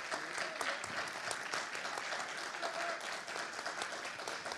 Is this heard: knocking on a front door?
no